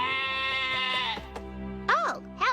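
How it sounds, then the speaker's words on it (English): A cartoon bighorn sheep gives two short, wavering bleats near the end, following a sustained, tonal voiced sound. "Oh, hello, Mr. Bighorn Sheep."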